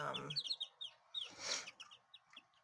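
Quail chicks give a rapid series of high, thin peeping chirps, close and fairly quiet, with a brief soft rustle in the middle.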